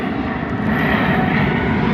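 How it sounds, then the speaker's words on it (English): An Alitalia Boeing 777 airliner flies overhead near Fiumicino airport, its engines producing a loud, steady, broadband roar that fills the air without letup. "Ooh, airplane. Ah, there it goes. That's an Alitalia 777."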